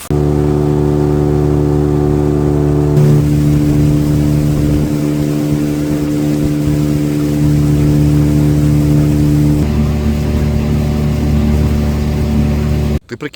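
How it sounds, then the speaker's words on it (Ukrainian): A boat motor catches and runs steadily, then its pitch climbs and falls as it revs, loud and close throughout before cutting off abruptly, ahead of autumn pike and zander fishing. "Сашко, заводь мотора."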